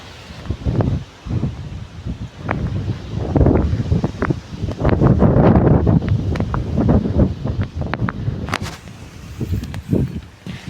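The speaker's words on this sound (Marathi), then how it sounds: "झेंडा किती बरोबर राहिलाय हो, फडकत वाऱ्यानं." Strong gusty wind on a hilltop near a temple, where a flag flaps, buffets the microphone in loud, uneven rushes that rise and fall throughout, with no talking.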